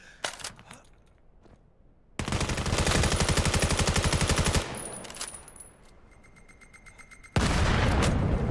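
Video game gunfire and a grenade blast during a championship finals match: sustained rapid automatic fire, a sudden heavy burst, then quieter shots and high pings before another loud, dense volley.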